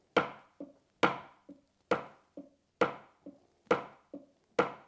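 Loud drumstick strokes land in a steady moderate-tempo pattern, each sharp crack followed by a softer lighter tap, repeating about once per second, close and alone with no talking.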